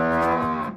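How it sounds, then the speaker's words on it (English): One sustained cow moo, loud and close, with a rich harmonic tone that fades at the end. "It's a cow."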